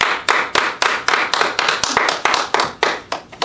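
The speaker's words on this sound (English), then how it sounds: "I'm going to sit that over there so I can clap for you." A few people clapping in congratulation at a community event, close, distinct individual claps in an uneven rhythm of roughly three per second.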